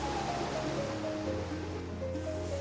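Wading through water in the video game Faery Tale Adventure II: a steady, close wash of sloshing water that never lets up, with faint tonal game music running underneath.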